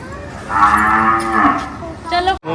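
Cows at a cow shelter let out a long, loud, close moo followed by a shorter second call, with light background noise and no talking.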